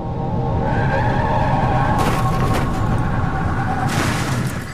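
A car roars up in speed, its tyres squealing loudly in a long skid, with harsh bursts of impact noise as it hits a tree and a bus shelter, all loud and close with no voices.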